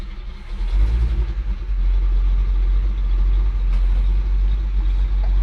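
The big-block 402 V8 engine of a 1970 Chevrolet C20 truck idles with a deep, steady low rumble, running alone and close by.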